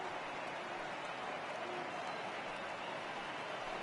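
Baseball stadium crowd in a PS4 baseball game roaring steadily as over 39,000 fans stand for a strikeout, a dense, continuous wash of cheering and applause with no break.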